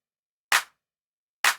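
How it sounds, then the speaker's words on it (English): A layered electronic clap drum sample for EDM percussion strikes twice, about a second apart, each hit sharp, bright and short with a quick decay, alone against silence. "so now we have our clap layered and it sounds like this"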